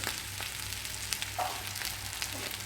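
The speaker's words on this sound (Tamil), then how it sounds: "3-4 நிமிஷம் வதக்கி விட்டால் போதும்." Country chicken pieces coated in masala sautéing in a pan, a soft steady frying hiss with faint occasional stirring ticks, low hum underneath, no speech.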